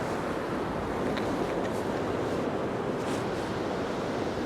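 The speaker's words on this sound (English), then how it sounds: "we make our way to the Mur River" The Mur River flowing through central Graz, Austria, heard as a steady, broad rushing wash of water with some wind noise on the microphone, continuous and fairly loud with no talk.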